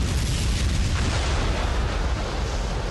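An underground atomic bomb explosion, a sustained deep rumbling roar that stays loud and dense throughout with no talking.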